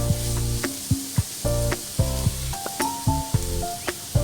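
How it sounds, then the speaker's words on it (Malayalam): Chopped capsicum sizzles in a hot pan for American chopsuey sauce, a steady hiss broken by regular scraping stirs and tapping of a spoon, with tonal background music underneath. "ക്യാപ്സിക്കം 1/4 കപ്പ് ക്യാപ്സിക്കം ഇതിലേക്ക് ഇട്ട് കൊടുക്കാം, ചെറുതായിട്ട് കട്ട് ചെയ്തത്"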